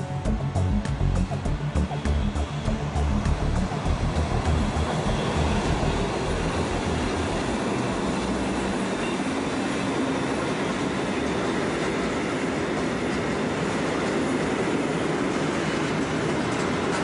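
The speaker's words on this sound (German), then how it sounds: "zieht die 140er den langen und schweren Güterzug noch locker über die Gleise." A heavy freight train hauled by an old Class 140 (E40) electric locomotive rumbles steadily along the tracks, a continuous low roar with faint rail noise, fading slightly as it continues.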